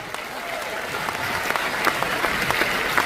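A large audience claps steadily for a speaker at a stage event, dense, continuous applause filling the hall with no voices over it.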